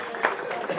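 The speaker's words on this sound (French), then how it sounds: "on peut applaudir les Arctic Monkeys" Brief burst of audience clapping at a political meeting in London, a short scattered patter of hands that swells once and stays fairly faint.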